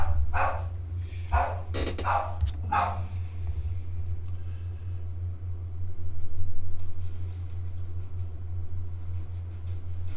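A pet dog barks a few times early on, sharp yaps over a steady low hum in an indoor room, then falls quiet while the hum continues.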